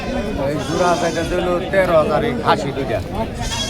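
Goats and sheep bleat repeatedly amid a busy crowd, their calls mixing with steady background chatter and voices at a lively outdoor market.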